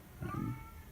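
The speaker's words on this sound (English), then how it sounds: "Sorry if you can hear the cat crying in the background." A cat cries somewhere in a room, a brief muffled meow rising and fading within a second, faint against low background hum.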